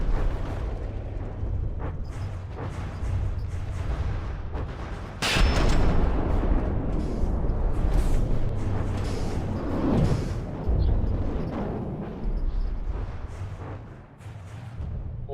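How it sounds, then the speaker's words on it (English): Ship cannon and missile fire in a video game: a heavy, sustained rumble of booming blasts with a sharp burst near the middle and layered explosions that continue loudly throughout. "Big cram cannon fire."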